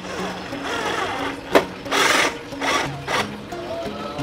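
Bolts are tightened while a 100-watt solar LED street light is mounted, giving a few close mechanical whirring bursts and a sharp metallic knock. Faint speech runs underneath.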